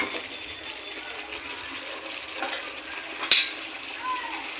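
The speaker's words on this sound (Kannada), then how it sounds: "10 ನಿಮಿಷ ಚೆನ್ನಾಗಿ ಫ್ರೈ ಆಗಿದೆ" Chana masala frying in oil in a pan makes a steady, moderate sizzle throughout, with a brief clink of a utensil near the end and no talking.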